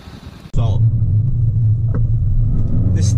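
A Toyota Celica VVTi engine starts with a sudden loud burst, then holds a low, steady rumbling drone from inside the car during a test drive, with a short rise in revs near the end.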